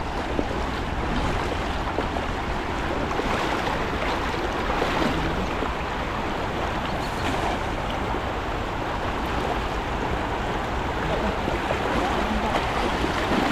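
A strong river current rushes over rocks in a sunny outdoor spot, a loud, steady, unbroken roar of flowing water that fills the whole stretch with no speech over it.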